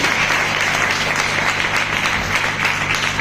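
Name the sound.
congregation applauding in church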